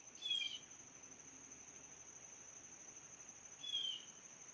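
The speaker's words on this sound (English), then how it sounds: "That bird is like really pissed about something. You guys hear that bird?" Two short, shrill, agitated bird calls about three seconds apart, sharp and insistent against a faint steady hiss, on Long Island during Tropical Storm Henri.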